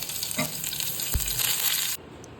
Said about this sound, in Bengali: এবার সাদা তেলে চট করে ফোড়নগুলো দিয়ে দিতে হবে